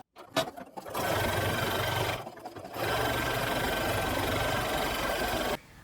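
A sewing machine runs a stretch stitch on stretch fabric in two loud, steady whirring bursts split by a short pause, then stops.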